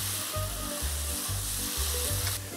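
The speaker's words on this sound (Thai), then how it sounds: "เราใส่พาสต้าร้อนๆลงไปเลยครับใส่ลงไป" Hot pasta is tossed in a pan with bacon and salted egg, giving a loud, steady sizzle broken by rhythmic low scraping and tossing strokes.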